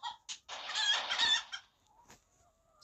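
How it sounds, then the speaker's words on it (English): Chickens cluck and squawk in a loud, busy burst in a video game, with a few short clucks before and after. "the chickens attack."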